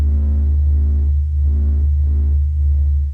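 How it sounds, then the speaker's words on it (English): Sped-up sonified pressure oscillations of the Sun: a low, steady droning hum with pulsing tonal bands that swell and fade in a slow rhythm, like a deep synthetic throb. "This is the sound of the sun singing."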